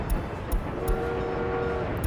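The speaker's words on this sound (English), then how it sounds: "You have a train on its way." A train in the city-building game Workers & Resources rumbles along with a steady low clatter and regular sharp clicks of wheels over rail joints, close and loud, with no talk.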